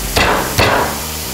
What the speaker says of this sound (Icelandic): ég nota bara blaðþykkan hníf, legg hann ofan á hvítlaukinn og ég lem hann aftur